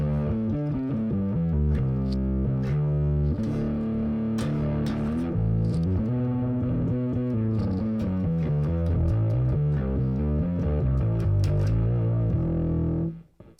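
A heavily distorted bass plays a continuous riff through an AmpliTube SVX bass amp simulator, thick and gritty, before cutting off abruptly at the end.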